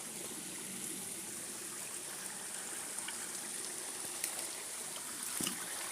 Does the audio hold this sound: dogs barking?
no